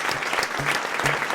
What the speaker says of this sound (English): A well-deserved round of applause for Adam Gallistel indeed.